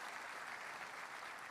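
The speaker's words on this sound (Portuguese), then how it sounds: "Será que você pode dar um aplauso a Deus pela vida desses irmãos que foram abençoados?" A church congregation claps together during a worship service, a soft, even wash of many hands heard from a distance and fairly faint, continuing steadily throughout.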